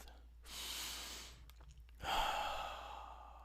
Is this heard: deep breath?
yes